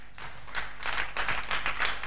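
An audience claps along in a church service, a steady patter of many hands building after a quiet start and holding through to the end.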